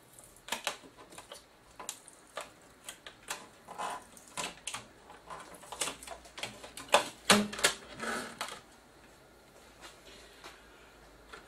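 Silver foil tape peeled off the screen of a Sony KDL-46S2010 television, heard as a string of close, faint crinkles and crackly tearing ticks that come in uneven bursts, with a louder cluster midway and no talk.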